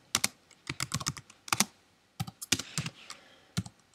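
Quick, irregular clicks of keys being typed on a computer keyboard, close and crisp, in short bursts with brief pauses and no talking.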